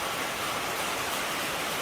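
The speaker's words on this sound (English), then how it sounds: "You out of the rain now? Yeah. Get out of the rain." Steady rain pours down outdoors, a dense even hiss with no breaks, moderately loud and unaccompanied by voices.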